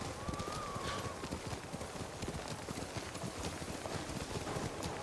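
Horse hooves gallop in the video game Ghost of Tsushima, a fast, steady clip-clop rhythm close by that runs continuously under faint wind and ambience.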